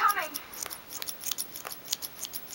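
Scissors snip through synthetic wig hair in a quiet room, a quick irregular series of close, crisp cuts over about two seconds, with a brief voice at the very start.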